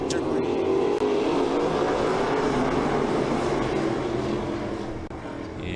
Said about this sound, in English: He's going to slide up the racetrack just a little bit and open the door back up for Fred Hansen in car number 14.